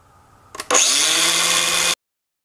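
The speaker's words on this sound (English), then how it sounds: "So here we go, grinding it down. I've got this little Makita grinder with a cutoff wheel." Small Makita angle grinder with a cutoff wheel cutting an airsoft shotgun part, with a couple of brief contact clicks, then a loud, steady high-pitched screeching cut lasting about a second before it stops abruptly.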